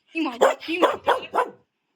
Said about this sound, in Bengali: আমাদের সুইট ডগ আছে।